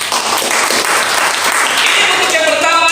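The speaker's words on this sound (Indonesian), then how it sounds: "Tepuk tangan lagi." A congregation at a prayer fellowship in a Jakarta apartment complex claps loudly and steadily in a dense wash of applause, with a voice or music tone rising faintly underneath toward the end.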